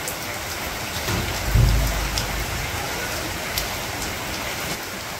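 Steady rain falling on a village home, a loud continuous patter with a low thunder-like rumble swelling briefly near the start.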